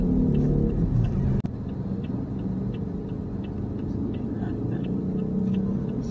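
A car drives through the town streets of Trece Martires, its engine a steady rumble with road noise from inside the cabin, a brief thump partway through and a faint repeated ticking like a turn signal.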